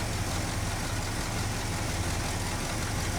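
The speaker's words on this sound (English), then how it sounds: "So what I've done here is got the engine running" A Ford 360 truck engine idles steadily at close range, a continuous low rumble that stays even throughout with no voices.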